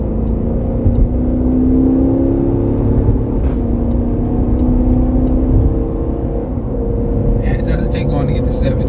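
A 2022 Dodge Durango R/T with the 5.7-litre V8 HEMI and all-wheel drive accelerates to merge, its engine rumbling loud and steady with rising whir and road noise from inside the cabin.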